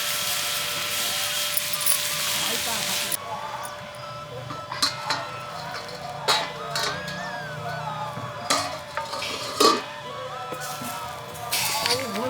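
A pot of mustard flower saag being stirred in a village kitchen, with scraping and clattering knocks at irregular intervals over a background hiss, ending with the lid being put on.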